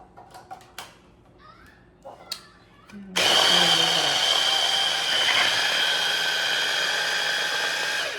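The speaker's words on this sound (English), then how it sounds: "put in and plug in my blender" A countertop blender whirs to life on a batch of butter for a spatchcock turkey, a loud steady high-pitched roar running without a break after a few seconds of light kitchen clatter and clicks.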